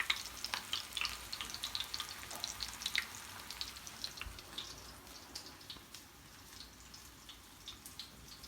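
Chapli kababs frying in hot oil, a quiet continuous crackle of small pops and spatters that eases slightly toward the end.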